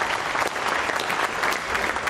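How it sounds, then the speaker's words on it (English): Applause and handshakes ring out in the Ariane 5 launch control room at Jupiter after GSAT-31 separation, a steady burst of clapping from a roomful of people throughout. "you heard the applause from people here in Jupiter, handshakes."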